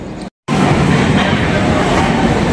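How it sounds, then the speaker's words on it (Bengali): The Brahmaputra Mail pulls out of Bhagalpur Junction in Bihar with a loud, steady rumble of wheels and carriage noise that drops out for a moment at the start and then runs on continuously. "ট্রেন আমাদের ছেড়ে দিল ভগলপুর জংশন থেকে।"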